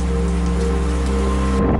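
Cyclone Vardah rain and storm winds lash the coastal areas of Tamil Nadu and Andhra Pradesh, a loud, dense, steady roar of pouring rain and gusting wind with a low rumble underneath, continuous throughout and no voices.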